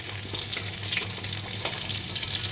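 Onion tempering fried in oil for a masoor dal with ash gourd, a continuous close sizzle with light stirring scrapes, no voices.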